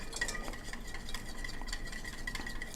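Whisking three tablespoons of olive oil into a salad dressing for a roasted butternut squash, grape and shredded Brussels sprout salad: a steady, quiet scraping stir with faint light clinks of a utensil against the bowl and no talking.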